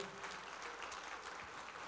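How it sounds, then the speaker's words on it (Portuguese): A church congregation applauding during a service, a steady, faint wash of clapping with no gaps. "vamos aplaudir mais ao nome de Jesus"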